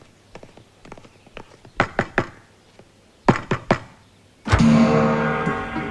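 Loud knocking on a door comes in quick bursts of two or three hard thuds, spread over several seconds. A sudden loud crash of broadband noise follows at the end.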